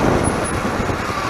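A Honda NX 250 motorcycle engine held at high revs, a steady loud drone mixed with road and wind rush, continuous and close throughout.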